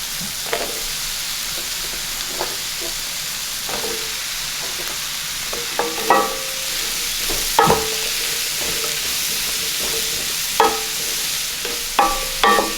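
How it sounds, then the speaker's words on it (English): Cut-up zucchini cooking in a pan for sous vide tri-tip steak, with a steady soft sizzle under repeated clinks and scrapes of a utensil stirring, no talking. "Okay, I'm going to add my zucchini that I've already cut up."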